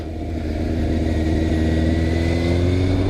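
A 2002 Yamaha Fazer 600 motorcycle engine pulls steadily through a gear, its mid-pitched drone holding loud and close for the whole stretch with a slight rise in pitch.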